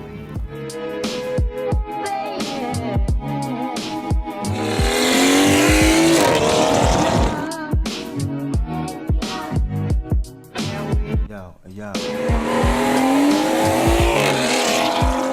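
A B58-engined car with a 3-inch straight pipe and 4.5-inch catless downpipe, roughly 440 wheel horsepower with a JB4 tune, roars loudly through hard revs and shifts, with a brief lull before surging again.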